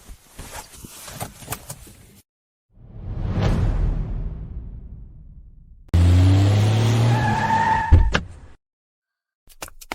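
A car rushes past with a swelling whoosh, then brakes hard with a loud tire squeal that skids it to a stop before everything goes silent.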